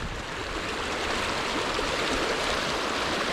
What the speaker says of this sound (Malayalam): കണ്ടിന്യൂസ്ലി ഇങ്ങനെ വെള്ളം വന്നുകൊണ്ടേ ഇരിക്കുന്നുണ്ട്